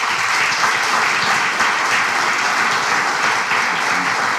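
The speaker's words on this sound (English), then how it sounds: "I think it deserves a round of applause" An audience applauds an honoree at the 2018 Kentucky Bourbon Hall of Fame award ceremony: loud, dense, continuous clapping from a large crowd that holds steady throughout, with no voices over it.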